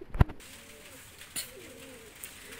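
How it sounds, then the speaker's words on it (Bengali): Zira Sarampuri pigeons give soft, low coos close by, with a sharp tap near the start and faint clicks between the calls. "জিরা সারামপুরি কবুতর দেখেন"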